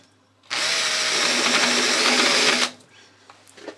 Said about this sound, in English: putting the centre drill back in to chamfer on the edge of the hole